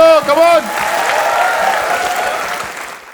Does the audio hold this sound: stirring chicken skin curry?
no